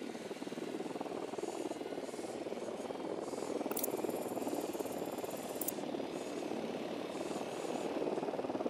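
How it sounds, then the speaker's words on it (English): Small drone in Ghost Recon Wildlands buzzing steadily after deployment, a continuous whirring rotor drone with brief sharp electronic beeps partway through, fairly loud and alone. "Deploying drone."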